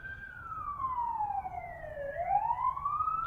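Police siren wailing from a passing emergency vehicle on a nearby main road, a single steady tone sweeping down and back up, moderately distant and fairly faint over a low background rumble, no voices.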